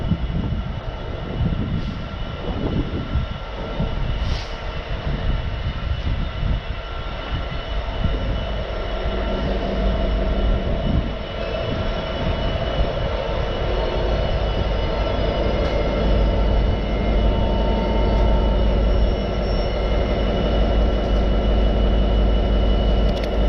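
A freight train hauled by locomotive 66564, running from Lawley Street to London Gateway, rumbles steadily past at close range for the whole span, with a continuous low roar of wagons and no talk.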